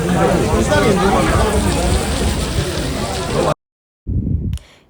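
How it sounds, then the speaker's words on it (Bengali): Constant rain falls at a tea estate in Darjeeling, a broad steady wash of drops and splashes, then a sudden cut to silence and a short burst of sound. "কনস্ট্যান্ট বৃষ্টি হয়ে যাচ্ছে।"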